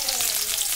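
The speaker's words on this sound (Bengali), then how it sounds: "পেঁয়াজগুলো এর মধ্যে দিয়ে দিলাম।" Chopped onions hitting hot oil with bay leaf, cloves, cardamom, cinnamon and cumin, giving a steady close sizzle and crackle for under a second, alone.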